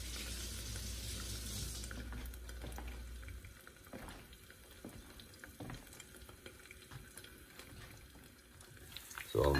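Egg frying under a cover in a cast iron skillet, a steady soft sizzle with faint scraping and clinks, louder at first and then settling into a quieter, even crackle.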